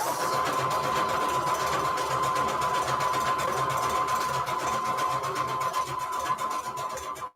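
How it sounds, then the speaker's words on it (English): A sewing machine stitching lines across scraps of paper runs steadily and loudly throughout, a constant mechanical hum with rapid needle clatter and no pauses. "The funnest part really is kind of sewing in between all the lines."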